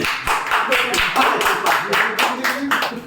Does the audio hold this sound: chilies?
no